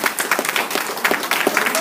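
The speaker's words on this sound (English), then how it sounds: "Can y'all clap y'all hands for this man" An audience claps for a man being honoured, with close, dense applause from many hands continuing steadily for about two seconds.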